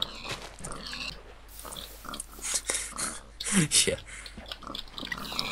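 Pigs in the Minecraft video game grunt and oink in a room full of them, with repeated short squeals and snorts bunched close together amid game sounds, and a voice speaks briefly.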